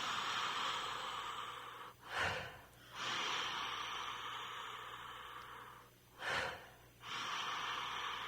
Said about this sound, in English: Inhaling through the mouth, exhaling out through the mouth.